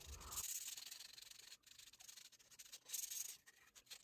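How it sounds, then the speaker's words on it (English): Soft, rhythmic rubbing strokes from hand-sanding a wooden gladiator sword with 220-grit paper between finish coats, faint and close, with no voices. "here is the 220 sand between coats"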